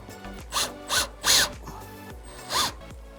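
Wrench tightening bolts on a copper commercial distiller during assembly, four or five separate ratcheting bursts with short pauses between, close and clear.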